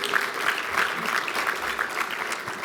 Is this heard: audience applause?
yes